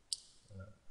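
A single sharp mouse click in a Revit Architecture 2012 modeling session, close and brief, followed by a faint low murmur.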